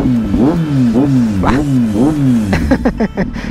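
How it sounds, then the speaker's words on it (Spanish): A motorcycle engine revs up and down several times in quick succession, close and loud, ending in a few sharp blips. "me encanta cómo, suena esta moto"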